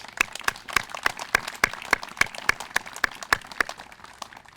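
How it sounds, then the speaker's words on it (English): Scattered hand claps from a small audience at a groundbreaking ceremony honoring the grounds crew, about fifteen distinct claps in an uneven rhythm, fairly close and moderately loud with no talking. "Please give them a round of applause."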